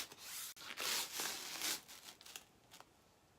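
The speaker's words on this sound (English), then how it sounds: "we're going to take our large squeegee and we're going to get all the air out" A large squeegee is rubbed across a screen to press the air out, producing soft scraping swishes in several short strokes close by, fading toward the end.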